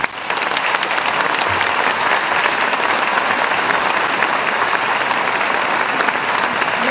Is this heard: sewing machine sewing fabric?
no